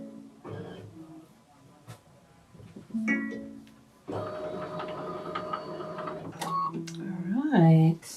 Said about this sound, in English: Let's go to sewing.